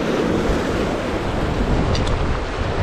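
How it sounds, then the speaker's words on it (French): Strong wind blows steadily at the seashore during sea bass fishing, a loud continuous rushing roar buffeting the microphone and mixed with surf noise, with no talk. "Le courant d'air se lève un peu, j'ai un peu plus de vent."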